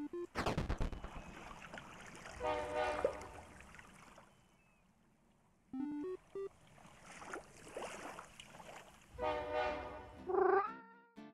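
A cat meows in several drawn-out, wavering calls, loud and close, spaced between bursts of other sharp sounds and short pauses.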